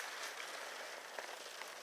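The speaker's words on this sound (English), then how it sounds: "Don't know if you can hear that hail. It's not snow, it's hail." Snowy hail pattering steadily on a parked car during a lunch break, a dense, continuous hiss of small impacts heard from inside the vehicle, fairly quiet and even with a few slightly sharper hits.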